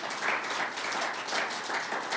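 A congregation at a Sunday sermon service gives a sustained round of applause, dense overlapping clapping from many people, soft and somewhat distant, without talking.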